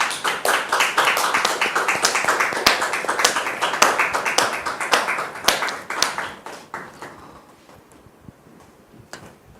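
A studio audience claps to welcome a guest onto a French talk show, brisk individual claps close to the microphone, steady at first and then thinning out and fading over the last few seconds.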